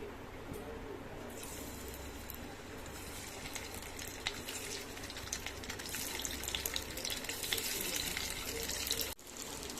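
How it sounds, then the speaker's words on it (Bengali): Eggs fry in mustard oil in a pan, a continuous sizzling, crackling hiss scattered with small pops that grows busier toward the end. "এবার সর্ষের তেল দিয়ে আমি ডিমগুলো হালকা করে ভেজে নিচ্ছি"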